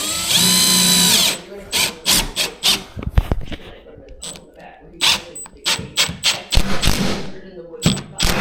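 A power drill drives screws into a wall being built as a vented stove wall, with a loud burst followed by short, repeated whirring pulses and thuds, broken up by a voice speaking between them.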